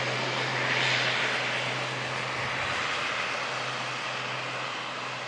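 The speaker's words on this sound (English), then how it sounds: "Aer Lingus ATR 72 as well, coming in from Dublin" Aer Lingus ATR 72 turboprop coming in to land at Manchester Airport from Dublin, a steady distant engine drone with a low propeller hum that slowly fades.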